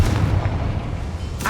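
A Confringo blasting spell explodes in Hogwarts Legacy, a loud booming blast with a rumbling low end that sustains for over a second before a short sharp crackle at the end.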